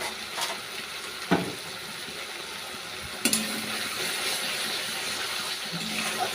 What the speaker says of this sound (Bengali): মশলা আমার ভাজা হয়ে গেছে